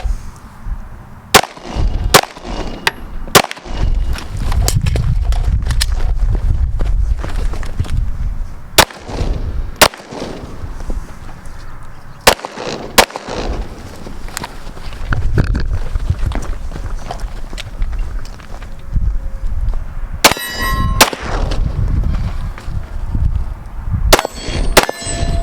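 Gunfire on an outdoor shooting range during a run-and-gun drill: sharp, loud shots come one at a time or in quick pairs and clusters, separated by footsteps and movement between bursts.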